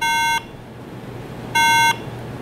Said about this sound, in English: If your RAM is not seated correctly, it will beep like this at startup.